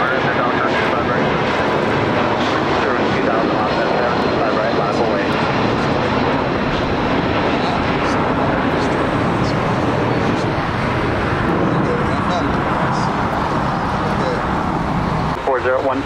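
Airliner taking off at LAX, heard from a park beside the runway, a loud continuous engine roar sustained throughout with broad rumble, masking faint voices and radio chatter.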